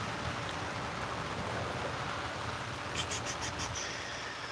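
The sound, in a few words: rain falling on a swimming pool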